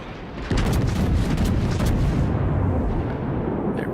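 Battleship guns, aboard the Arizona in a naval video game, let out one heavy boom that hangs on as a long rolling rumble and fades slowly.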